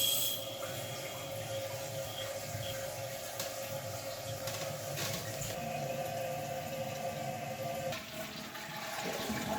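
Water rushing steadily back into a newly installed toilet tank after the supply is reopened, a continuous close hiss and trickle of refilling with a few small knocks, no voices.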